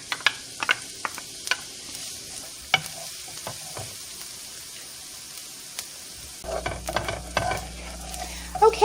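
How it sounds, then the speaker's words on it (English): Chopped onion frying in about a tablespoon of olive oil in a pan, a steady soft sizzle with occasional stirring clicks and scrapes, a louder burst of sizzling near the end, close and without talk. "my onions have been cooking for about 3 minutes"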